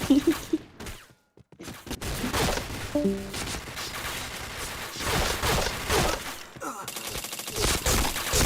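Gunfire in the online shooter Point Blank, heard as uneven bursts of shots that swell and drop, with short gaps and a brief quiet moment early on.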